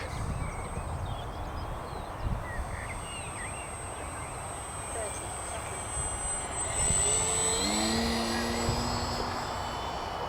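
An FMS 1.4m Piper J3 Cub V4 RC model plane flies overhead, its thin motor whine buzzing over a windy outdoor background and rising into a clearer, louder tone near the end.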